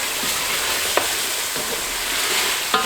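Ground spices, nutmeg, mace and garam masala powder being stirred into hot oil for beef yakhni pulao, a constant loud sizzle with occasional sharp scraping clicks of the spoon against the pot.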